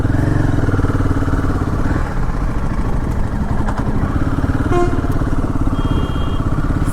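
A Royal Enfield Himalayan motorcycle rides along on a weekend road trip, its steady loud engine drone and road roar continuous throughout, with wind rush and a brief faint horn-like tone.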